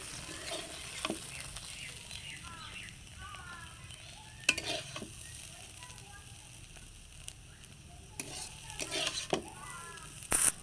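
Quiet steady sizzling of bitter gourd frying in a pan, with occasional scrapes and clicks of stirring and faint talk in the background.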